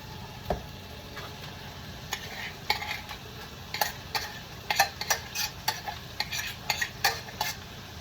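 Fried rice is spooned and stirred in a pot, giving a run of irregular scraping and tapping knocks over a low, soft sizzle, with the clicks growing busier toward the end.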